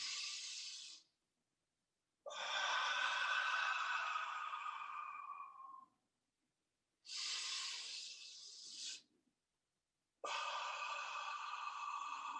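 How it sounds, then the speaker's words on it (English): Four deep breaths out, each a breathy, voiced "HA" exhale lasting a second or more, separated by quiet gaps, close and fairly soft. "I kind of like to hear my breath, sort of an HA sound"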